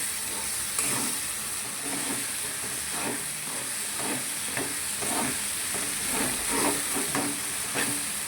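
Besan zunka with freshly added coriander is stirred in a hot pan, giving a low, steady sizzle with repeated soft scraping strokes of the spoon, close by and moderately loud, with no voices.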